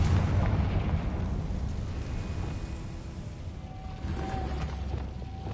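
A Confringo fire spell blasts in the Hogwarts Legacy video game, a loud sustained booming rumble that fills the whole stretch without pause or voices.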